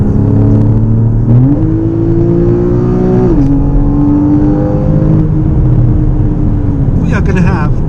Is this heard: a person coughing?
no